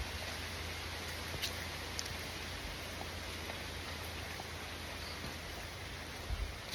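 Rain falls steadily over a rubber plantation as a storm moves in, a soft, even hiss of drops with occasional faint taps, distant and without voices.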